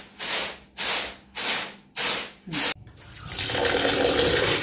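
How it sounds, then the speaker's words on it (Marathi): Ration rice being washed in water, heard as five rhythmic bursts of sloshing and swirling water with short pauses between them, ending in a steady rush of running water, close and loud. "तांदूळ स्वच्छ धुवून घ्यायचं. 2 ते 3 पाण्यात धुवून घ्यायचं."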